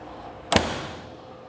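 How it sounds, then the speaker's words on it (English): Rational ClimaPlus Combi oven door swinging open with a single brief clunk over faint background hiss. "You then open the door,"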